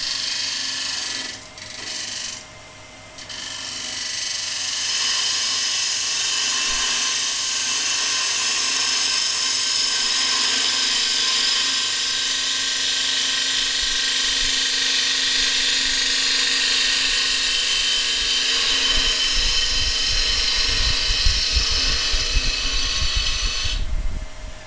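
A dull woodturning gouge cuts into a spinning piece of wood on a lathe, a loud continuous hissing whine with a steady motor hum, sustained almost throughout before a brief rumbling knock at the end.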